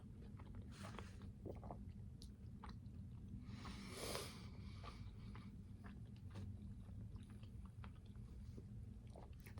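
Close, wet chewing of food with soft squishy bites repeating steadily over a low room hum, no talk.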